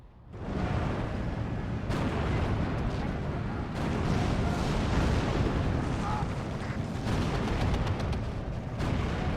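Mortar artillery fires in the war video game Steel Division II: a dense, continuous barrage of heavy booms and rumbling blasts, loud and close, with someone talking over the gunfire.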